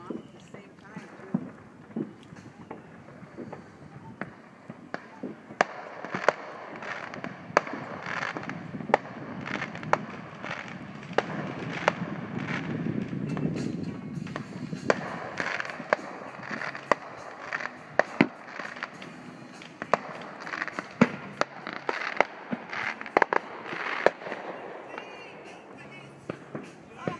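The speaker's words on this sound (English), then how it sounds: "For privately owned firecrackers, that's pretty impressive." Fourth of July firecrackers pop and crackle in rapid, irregular bursts at a moderate distance along the St. Croix River, with people talking under the noise.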